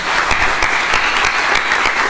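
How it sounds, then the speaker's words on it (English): A finals-night pitch competition crowd gives a round of applause, dense and steady claps filling the room throughout. "Let's give him a round of applause."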